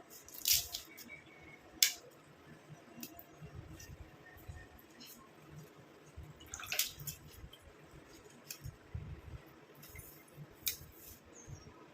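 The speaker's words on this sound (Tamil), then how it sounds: "இந்த செம்பருத்தி இலைகளை எல்லாத்தையும் நம்ம மிக்சி ஜாரில் ஆட் பண்ணிக்கலாம் இந்த மாதிரி பிச்சு பிச்சு போட்டுக்கோங்க" Hibiscus leaves being torn by hand and dropped into a mixer jar, heard as soft irregular rustling and crinkling with a few sharper snaps, close and fairly quiet.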